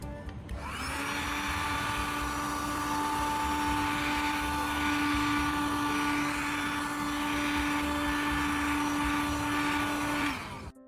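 A heat gun blows over a hot glue and baking soda mixture, a steady loud whirring hum that starts abruptly, holds constant for about ten seconds and cuts off sharply, with no talking.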